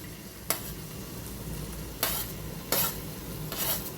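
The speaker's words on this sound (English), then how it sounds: "I'm going to stir in till the garlic cooks. And I'm going to go in with my onions." Garlic and onions sizzle in a pan for egg bhurji, a soft continuous frying hiss broken by four sharp scraping strokes of a spoon stirring against the pan, close and quiet.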